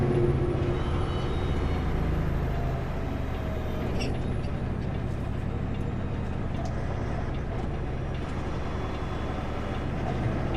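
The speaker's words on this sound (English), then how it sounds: "Just engine brakes." Heavy truck on a mountain highway descending with its engine brake engaged, a loud, steady low rumbling drone with a faint whine overhead, continuous and close throughout with no talking.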